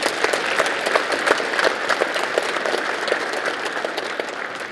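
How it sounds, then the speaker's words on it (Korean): Crowd applause at a Park Chung-hee birth anniversary event held in a gymnasium, a dense, steady wash of many hands clapping at even loudness throughout, without talk. "자, 여러분 박수 한번 보내주십시오."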